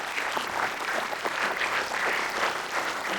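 A conference audience applauds steadily throughout, a dense wash of many hands clapping at a moderate distance with no pauses.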